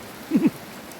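Rain falls on banana leaves outdoors as a continuous soft patter. Two brief tonal chirps break in near the middle.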